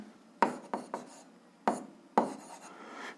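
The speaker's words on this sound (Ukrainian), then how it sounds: "Ну що ж, записуємо відповідь, пишемо відповідь." Pen or chalk writing out a physics answer, five or six short scratchy strokes close by, spaced irregularly with brief pauses, no talking.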